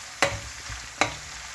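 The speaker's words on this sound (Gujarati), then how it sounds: "હવે આને સતળવા દઈએ." Vegetables sautéing in a pan make a steady sizzle, broken twice by sharp stirring scrapes about a second apart.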